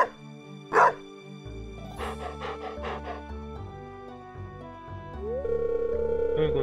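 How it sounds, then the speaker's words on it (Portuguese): Short cartoon dog barks and yips from the farming video game Stardew Valley, two quick bursts over soft, steady in-game music with a sustained tone rising near the end. "você tá vendo esse cachorro?"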